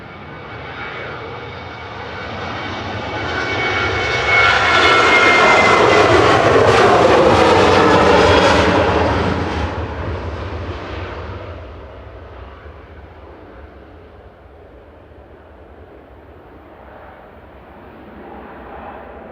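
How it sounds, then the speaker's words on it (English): A Jet2 passenger jet takes off at Manchester Airport, its engine roar swelling to a loud, close peak, then fading steadily as the aircraft climbs away, leaving a low distant rumble. "Jet 2 headed off to Cos with flight 813"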